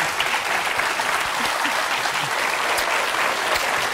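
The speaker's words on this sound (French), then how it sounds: "nous vous applaudissons" A French TV quiz-show studio audience on Qui Veut Gagner des Millions? applauds steadily and densely for the whole stretch, loud and even, with no pauses.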